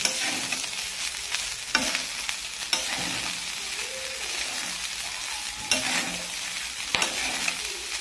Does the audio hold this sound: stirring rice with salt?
yes